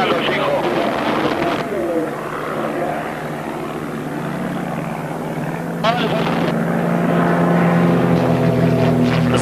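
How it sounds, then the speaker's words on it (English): Aircraft flying past at an airshow in a formation display, one of them inverted, with a loud steady engine roar throughout and a commentator talking over it. "The inverted aircraft concentrates on making a level fly past, while the other aircraft formates on him."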